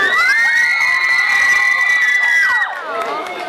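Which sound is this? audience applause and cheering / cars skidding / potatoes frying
audience applause and cheering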